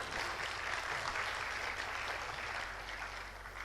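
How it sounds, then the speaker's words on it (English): Continuous, fairly faint applause from a conference audience at a green energy event in Indonesia, an even wash of clapping with a low hum beneath it, no speech over it. "Please give applause."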